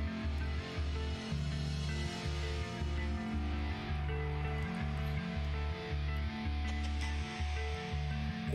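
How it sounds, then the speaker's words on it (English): Guitar volume swells drenched in reverb from a song, sustained chords fading in over a steady rhythmic low-end pulse, loud and continuous with no talking. "doing volume swells, which is where you hit a chord, then you turn the volume up on your guitar"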